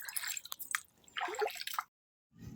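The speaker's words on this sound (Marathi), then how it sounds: "कायम ते गरम पाण्याचं चालू असतं" Hot running water splashes and drips in irregular bursts, fairly close, then stops for a brief silent gap before the splashing resumes.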